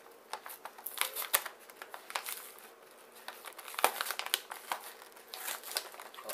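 A masking-taped package holding a 4-inch metallic Megaforce Red toy figure being opened by hand, with close, intermittent crinkling, rustling and tearing of packaging in bursts and brief pauses.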